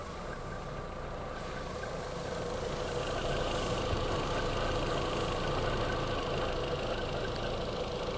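A VW engine idling with a slight remaining misfire, heard as a steady, continuous rumble with fine irregular roughness, close by and constant throughout, with no talk.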